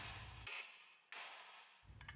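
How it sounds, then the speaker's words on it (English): A hammer strikes a Honda Civic's suspension knuckle to free the lower ball joint, two sharp metallic blows ringing out between quiet gaps. "Hit it with a hammer until it breaks free."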